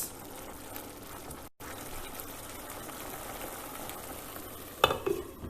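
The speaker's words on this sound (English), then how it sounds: "Try and mash up the tomato pieces." Tomato pieces with ginger and mango being mashed and stirred in a pan for Bengali-style tomato chutney, a steady low sizzle and bubbling with a brief break, then a few sharp scrapes and clinks near the end.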